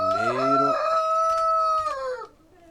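A rooster crows loud and close, one long full cock-a-doodle-doo with a rising opening and a sustained, wavering tail that fades out near the end.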